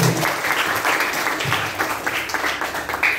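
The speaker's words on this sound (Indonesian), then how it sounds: "tepuk tangan sama kita semua" Applause from a class of seventh-grade students, a steady wash of many hands clapping for a few seconds with faint voices mixed in.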